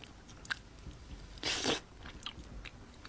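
Close-up biting and chewing of cooked insects, soft crunches and mouth clicks with one louder crunchy bite in the middle, no speech.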